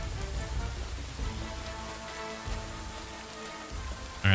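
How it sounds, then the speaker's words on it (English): Steady rainfall pattering on surfaces in the game Kingdom Come: Deliverance 2, a soft continuous wash with low rumbling beneath and a faint tonal hum, ending in a brief louder burst. "It's starting to rain."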